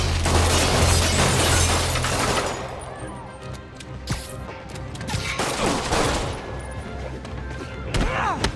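Gunfire crackles through a chaotic Spider-Man PS4 fight, a dense barrage of shots with crashes and impacts under the game's shouting voices.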